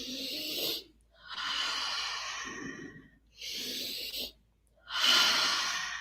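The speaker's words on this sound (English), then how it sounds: "So I'll demonstrate for 3 breaths." Person demonstrating a breathing exercise: a quick inhale followed by a longer, slow exhale, repeated through several close, airy breaths with short silent gaps between them.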